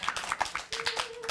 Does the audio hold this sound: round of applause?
yes